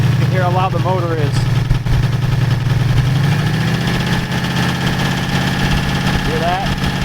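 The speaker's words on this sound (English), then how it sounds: "You can hear how loud the motor is." Old Oldsmobile Cutlass engine, left sitting for years, idling loud and rough with a steady low rumble; a voice talks briefly over it at the start and again near the end.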